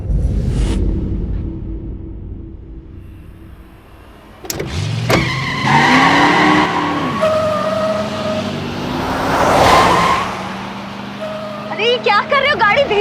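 A taxi speeds along a city road in Delhi, its engine and tyre noise rising and surging loudly with passing traffic and a siren-like tone nearby, while a voice speaks over it.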